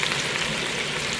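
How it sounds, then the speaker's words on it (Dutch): Onions and garlic frying in a pan give off a brief, steady sizzle with a constant crackling hiss and no voices. "Lekker twee uitjes bakken, knoflook teentjes, een stuk of zes."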